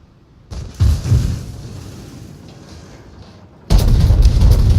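Battleship Tirpitz fires its main guns in a naval combat game: booming shell blasts rise early, fade into a long rumbling tail, then a second heavy salvo crashes in loud and sustained at the end.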